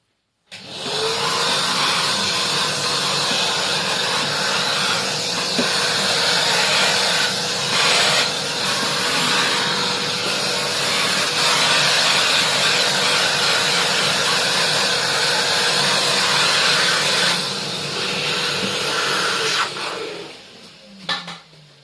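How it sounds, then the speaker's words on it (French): A vacuum cleaner runs steadily for about twenty seconds during dusty renovation work, a loud continuous whine and hiss that cuts off near the end, with no talking over it. "Oh, l'aspirateur."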